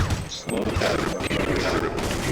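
Rifle shots tapped out in Counter-Strike: Condition Zero, a few sharp reports rising from a dense, steady wash of loud game noise over just over two seconds.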